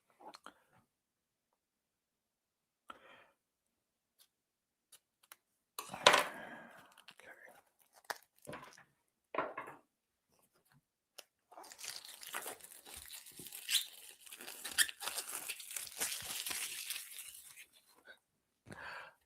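Packs of archetype cards for Deadlands Lost Colony are torn and crinkled open in short bursts of crackling plastic wrapper, close and fairly quiet, with near-silent pauses and a longer stretch of continuous crumpling toward the end.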